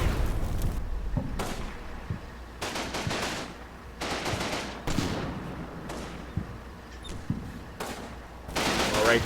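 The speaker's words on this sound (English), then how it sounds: "We've got a nasty machine gun there. Keep up the fire." Machine gun and rifle fire sound in the World War II strategy game Combat Mission: Final Blitzkrieg, with repeated loud bursts of automatic fire and sharp shots spaced a second or two apart.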